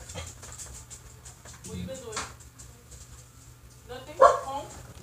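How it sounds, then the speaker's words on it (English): A dog barks a few times indoors, moderately close, between quiet stretches with people talking softly. "me kept barking, as you guys heard. Dog barks a lot."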